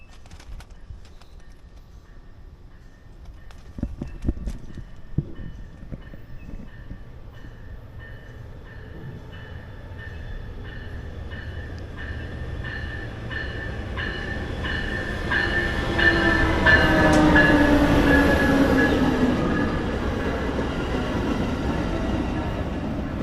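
An Amtrak passenger train rolls into a station, rumbling and growing louder, with rhythmic wheel clacks and a rising screech of brakes as it slows nearby.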